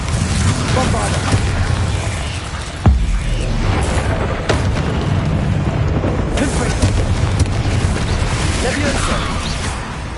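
Bombarda spell explosions in Hogwarts Legacy, loud booming crashes over a dense, roaring combat soundscape, with a sharp blast near the three-second mark and continuous rumbling debris throughout.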